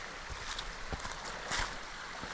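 Steady rushing of a shallow creek flowing over rocks at a trail crossing, with light splashes and occasional knocks, fairly close and continuous.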